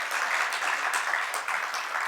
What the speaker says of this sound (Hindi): ताली बजा सकते हैं इस बात को।